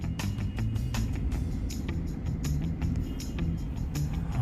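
Road traffic on a Riyadh street heard from inside a car, a steady low engine and tire rumble with passing vehicles and small knocks, no talk.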